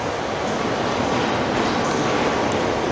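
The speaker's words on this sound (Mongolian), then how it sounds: "Энэ ахаар метро юм шиг байна шүү дээ." A Budapest metro train gives a steady, loud, broadband roar and rumble throughout, with no talking.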